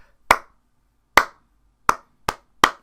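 Wrestling crowd at TNA Destination X 2012 clapping to rally Andrews as he fights back: five sharp, isolated claps that come gradually faster, with nothing else in between.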